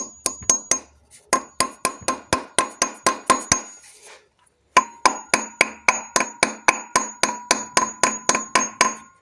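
A hammer taps a Torx T25 bit into a stuck exhaust manifold stud on a 1.9 Multijet Alfa Romeo engine, giving sharp metallic strikes in quick, even runs of a dozen or more with a short pause between the two bursts.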